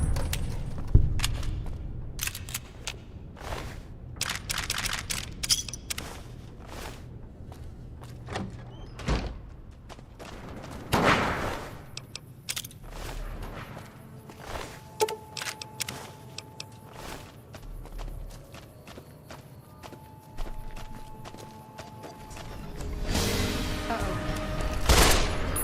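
Bursts of assault carbine fire ring out in Fallout New Vegas, scattered sharp shots and rapid volleys spread across a long stretch, some loud and close, with quieter gaps and occasional talk between them.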